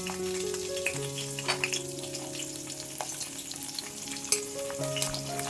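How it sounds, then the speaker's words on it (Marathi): Slit green chilies hit hot oil for a tempering, crackling and sizzling steadily up close with small popping bursts, and a faint tonal background runs beneath. "फोडणीसाठी तेल तापलेलं आहे आता आपण उभ्या चिरलेल्या मिरची घालायची आहे"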